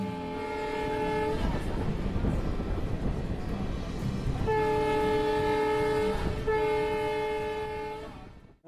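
A DMU train on the Jaynagar–Inarwa line runs at about 85 km/h with a steady rumble, sounding its horn in two long blasts, close and loud.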